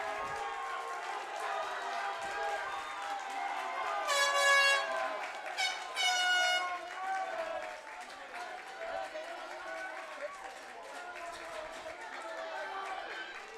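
Fans at an outdoor high school lacrosse championship blow air horns in two short blaring bursts, sounding loudly over a constant crowd murmur at the field.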